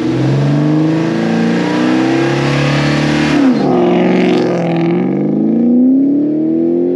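A 1999 Ford Mustang Cobra accelerates hard out in open country, its engine climbing steadily toward about 4,500 RPM. The loud, continuous roar rises through a shift midway, then keeps building strongly and close to the mic.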